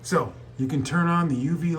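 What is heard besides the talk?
No distinct noise like a dog, phone or traffic.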